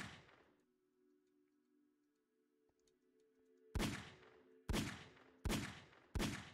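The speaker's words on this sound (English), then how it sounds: "And we have our simple revolver." Simple revolver from the HBM Nuclear Tech mod in Minecraft fires four sharp, loud shots at uneven intervals after a quiet stretch with a low steady hum.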